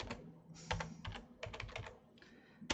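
Bursts of typing on a computer keyboard, quick clustered key clicks in several runs separated by short pauses, moderately close and alone with no talk.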